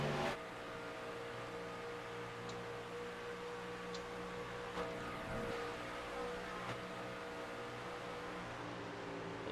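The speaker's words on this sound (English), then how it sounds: "Listen to the lifting going on there." A heavy NASCAR-style truck in a racing video game lifts off the throttle, its engine droning steadily with faint ticking and a soft dip mid-way, heard from on board at moderate loudness.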